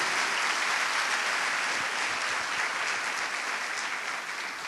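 A church congregation applauds during a worship service, a dense, steady wash of clapping from many hands that carries through without a break and fades slightly at the end.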